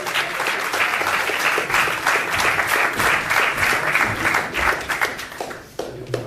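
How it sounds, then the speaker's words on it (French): A premiere audience applauding at a film screening, dense clapping from many hands, loud and sustained, fading slightly toward the end. "On applaudit très fort Martine de Verchères pour le rôle de Sonia Gentil."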